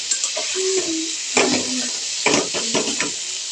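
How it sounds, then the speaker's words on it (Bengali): Grated carrot and chhana cottage cheese are stirred in a pan for a carrot sweet. Brisk scraping spoon strokes come in short bursts over a gentle, continuous sizzle, close by. "এবার নাড়ব। মিক্স করে সুন্দরভাবে মিক্স করে নিতে হবে ছানার সঙ্গে, গাজরটা যাতে একেবারে মিশে যায়।"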